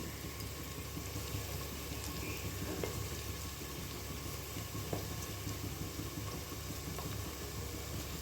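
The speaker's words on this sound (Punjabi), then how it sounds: "ਆਪਾਂ ਪਿਆਜ਼ਾਂ ਨੂੰ ਚੰਗੀ ਤਰ੍ਹਾਂ ਪਹਿਲਾਂ ਭੁੰਨ ਲਵਾਂਗੇ" Onions roasting in a pan for a pattypan squash (chhapan kaddu) sabzi give off a steady, low, even sizzle that continues without a break, with no talking.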